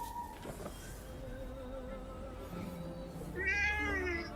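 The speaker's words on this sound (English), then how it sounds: "I think it is another kitty cat." A cat in the video game Forspoken meows near the end, a short rising call over steady in-game ambience and music with faint buzzing tones.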